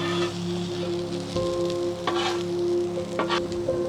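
Food sizzles steadily in a pan outdoors on a windy day at a campground in Montana, with a constant hiss and a few louder spits, and a low hum running underneath.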